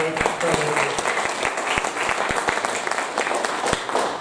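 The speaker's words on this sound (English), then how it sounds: "I think that's a big applause for everyone." An audience at a bonsai club critique event in Melbourne applauds steadily with dense clapping throughout, a few louder individual claps standing out, and speech mixed in.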